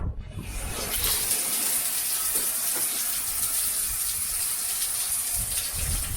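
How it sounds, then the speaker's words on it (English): Steady spray of a shower running at Purni Bore in the Simpson Desert, starting abruptly and then continuing as a constant rushing hiss of falling water, close by with no speech. "This was indeed the first time I had a freezing shower at Purni Bore."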